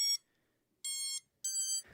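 An FPV drone gives bright electronic start-up beeps after its battery is plugged in: three short, high-pitched tones separated by brief pauses, close and clear, ending with a faint rustle.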